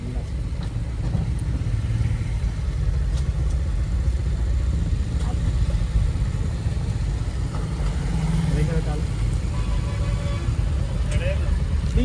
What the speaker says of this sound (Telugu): ఫుల్ ట్రాఫిక్ ఉంది.